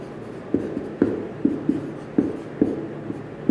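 Marker or chalk strokes on a board write out a word, in short scratchy bursts with brief pauses, close and clear with no speech.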